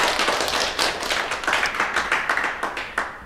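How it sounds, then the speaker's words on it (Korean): A small group clapping hands together at the start of a Monday class session, a dense run of sharp, slightly uneven claps lasting a few seconds, close and moderately loud with no talking. "박수 한번 치고 하겠습니다"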